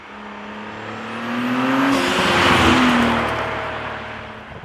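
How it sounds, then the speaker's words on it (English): An Audi S4 B9 fitted with a Unitronic intake drives past, its exhaust swelling from a distant rumble to a loud, throaty roar near the middle, then trailing away. "I think it changes the way the exhaust sounds. It sounds a little bit deeper, a little bit more throaty."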